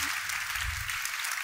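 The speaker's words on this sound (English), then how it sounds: "A big round of applause." A conference main-stage audience gives a round of applause after a mobility panel, a brief, loud wash of dense clapping with a low rumble beneath.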